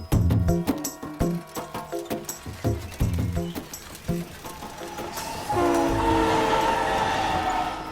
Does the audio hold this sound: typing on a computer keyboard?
no